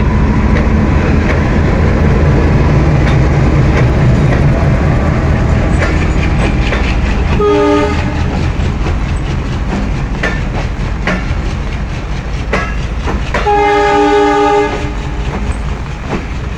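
A train rumbles past loudly and steadily with clattering wheels, sounding its horn twice, once briefly and once in a longer blast near the end.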